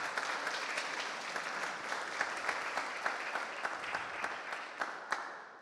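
An audience gives a round of applause for a technical art lead at an animation talk, a dense continuous clapping with a few sharper individual claps standing out near the end.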